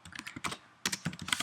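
Keys clatter on a computer keyboard in two quick bursts of typing, separated by a short pause, close and fairly quiet with no voice.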